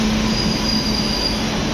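The Korba–Thiruvananthapuram North express (22647), loud and close, rumbles past with a steady high-pitched wheel squeal ringing over the roar.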